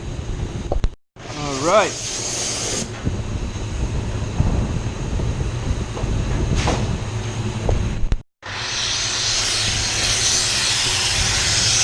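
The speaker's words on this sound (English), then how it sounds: "I'm gonna turn up the heat and blow." A heated air blower drying water-based paint on a Range Rover, roaring as a loud steady hiss that cuts out briefly twice, with a short spoken remark early on.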